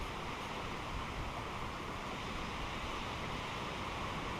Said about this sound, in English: as you can see, the wind is actually picking up right now